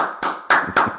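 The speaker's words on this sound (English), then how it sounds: "round of applause for my friend and mentor from here in Memphis, Tennessee" A handful of sharp hand claps, four distinct strikes spaced about a quarter second apart, come close and alone over an online Zoom lightning-talk session.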